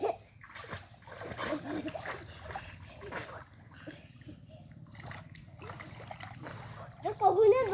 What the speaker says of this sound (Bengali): সাঁতার দিচ্ছে ও, দেখছো কি সুন্দরভাবে সাঁতার দিচ্ছে